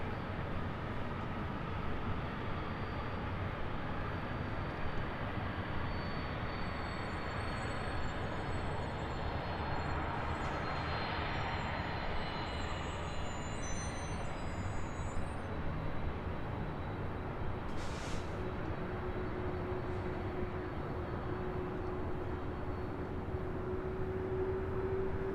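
A Delta airliner taking off from runway 24 left at LAX, heard as a steady, broad jet roar from a distance that holds for the whole stretch, with a faint rising whine near the end.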